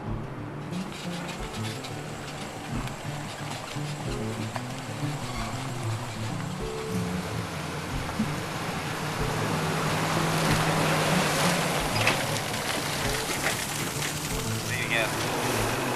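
A fishing boat runs across the water of Guntersville, Alabama, its engine a steady low drone beneath broadband wash and wind rush, growing slightly louder partway through and holding constant.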